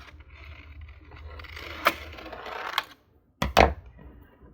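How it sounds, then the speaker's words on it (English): Scissors clunk down on a crafting table while making journal cards, two sharp knocks, one at the middle and a louder double clack near the end, over light background rustling. "Sorry, I clunked my scissors."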